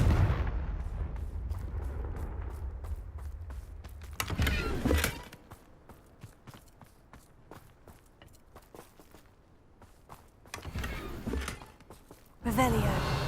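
Confringo fire spell blasts in the video game Hogwarts Legacy: loud booming bursts with crackling tails break out twice, separated by quieter stretches of clicks and scattered in-game effects.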